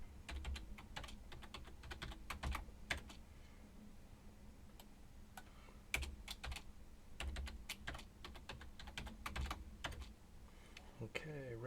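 Keys clack on a computer keyboard as an email address and password are typed in. The keystrokes come in quick bursts with short pauses, quiet and close, and a faint voice can be heard in the background.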